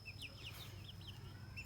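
Free-ranging Leghorn chickens cluck faintly from a distance, a few short, scattered calls over a low background hum.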